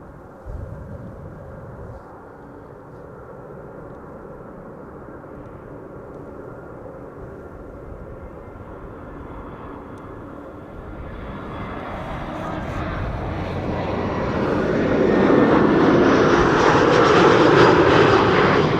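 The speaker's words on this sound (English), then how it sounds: "I think I can almost hear the Singapore 747 already" A Singapore Airlines Boeing 747 approaches at an airport, starting as a distant low engine rumble that steadily swells into a loud, broad roar as it draws nearer, with faint talk early on.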